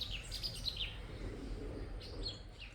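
Small birds chirp and tweet outdoors in the countryside, with quick high calls in a burst at the start and another near the end. They sound moderately faint over a low, steady background rumble.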